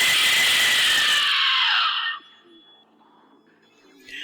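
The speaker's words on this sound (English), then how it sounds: "Perfect examples are the Aztec death whistles that I sell through Haunt Dogs." An Aztec death whistle, a four-chamber clay whistle, lets out a loud, harsh shrieking blast for about two seconds, then drops away into a faint lingering tone and quiet room noise.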